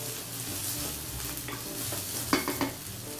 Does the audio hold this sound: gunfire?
no